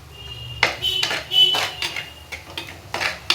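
Egg bhurji masala scraped and stirred in a pan with a metal spoon: a series of clinking, scraping strokes at close range, several sharp metallic taps spread over a few seconds, no talking.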